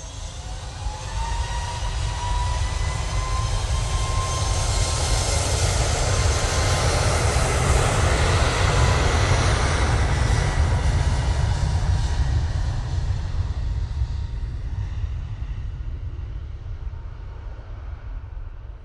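Airliner departing Manchester Airport for Copenhagen, a broad jet roar that swells to a peak midway and slowly fades, with a faint rising whine early on and deep rumble beneath, no speech.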